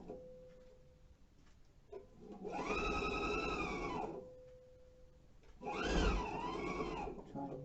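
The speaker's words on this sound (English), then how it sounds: "And now I'm sewing all the way around." A home sewing machine stitches around a front zipper, two close, steady whirring bursts of several seconds each with a quiet gap between them.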